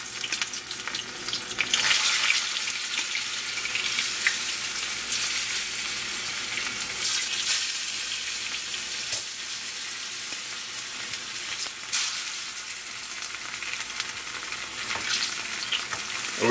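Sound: frying sweet plantain in oil

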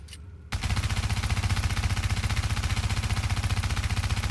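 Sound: rapid gunfire emptying a magazine in The Division video game

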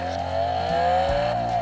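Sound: Bumblebee transformer toy car making sounds after button press

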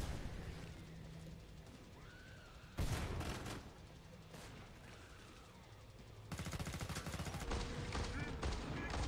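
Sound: gunfire from the video game Killing Floor 2

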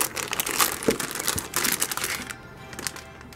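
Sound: unpacking a new motherboard from its packaging

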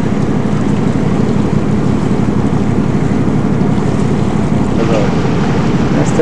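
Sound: bubbling water of a jacuzzi on a cruise ship

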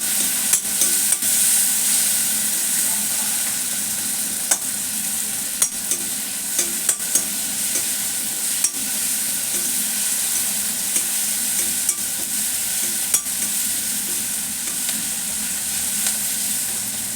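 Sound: curry leaves and spice powder frying for millet khichdi

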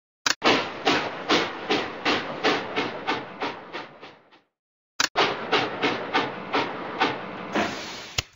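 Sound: train sounds from a Curious George video game

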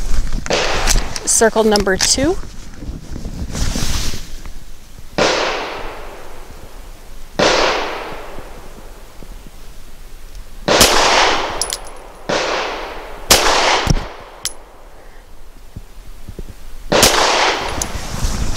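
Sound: Sig P365 XL pistol firing 85 grain frangible hollow points

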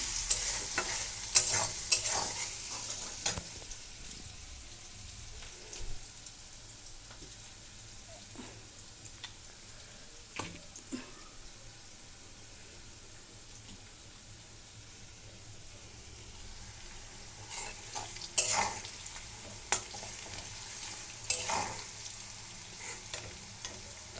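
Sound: onions frying and being stirred in a pan

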